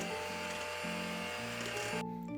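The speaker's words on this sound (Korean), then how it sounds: "다른 볼에는 버터를 부드럽게 풀어줄게요." Butter is softened in a bowl while fig vanilla cake batter is being made. A steady, close motorized whir shifts pitch a few times and cuts off abruptly near the end, with no talking.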